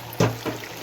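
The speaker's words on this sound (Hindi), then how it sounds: "अब हम 1 गिलास पानी डालकर" A glass of water hits a pan of spiced, browned beef and cauliflower for a traditional Pakistani gosht gobhi, giving one brief splash followed by a soft fading sizzle.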